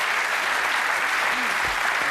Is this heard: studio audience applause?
yes